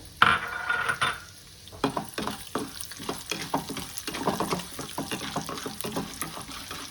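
Chana dal and urad dal fry in hot oil with a soft, steady sizzle, broken by repeated scraping and stirring clatter from a spoon against the pan.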